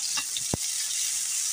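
Onions sizzle steadily in a hot pan for Filipino pork kare-kare, a continuous loud hiss with a brief clatter or stir near the start, no talking.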